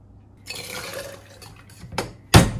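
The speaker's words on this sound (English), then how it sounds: "let's put 30 milliliters of heavy cream." Heavy cream is poured over ice into a White Russian-style cocktail with rum, a close liquid splash and trickle followed by a louder sharp clink and splash near the end, with no talking.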